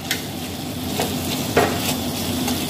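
A dish sizzles loudly and steadily in a pan while pepper is stirred through it, with a few utensil scrapes and taps cutting through the frying.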